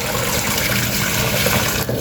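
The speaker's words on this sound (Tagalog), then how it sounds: "maglalagay po ako ng tubig" Water pours into a cooking pot in a steady, loud gush close by, splashing continuously before easing off near the end.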